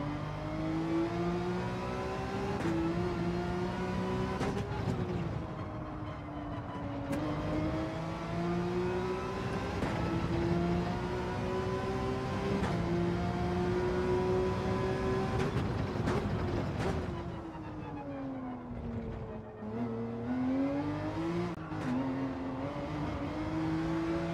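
Race car engines in Gran Turismo 7 daily racing, a sustained near engine note rising and falling in pitch through repeated throttle and gear changes, loud and continuous with no talk.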